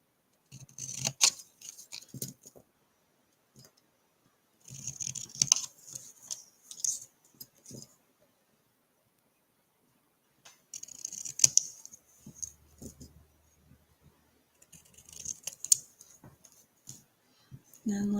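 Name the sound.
scissors trimming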